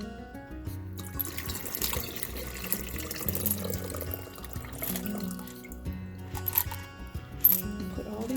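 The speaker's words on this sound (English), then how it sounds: "I'm going to dump this water into my little bucket right here" Water is poured from a container into a small bucket while preparing a rock tumbler for picture jasper stones, a steady splashing, gurgling flow with a few louder sloshes throughout, no talking.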